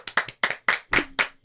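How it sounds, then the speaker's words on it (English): A person claps their hands during the closing credits of the film Final Fantasy: The Spirits Within, about eight sharp, close claps in quick, uneven succession over a second and a half. "I'm clapping for the credits."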